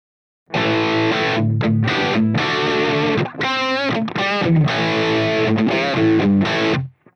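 An electric guitar played through a Line 6 POD HD500X amp model with the gain turned down gives crunchy, mildly distorted strummed chords and a short melodic run, loud and close, ringing out alone before stopping.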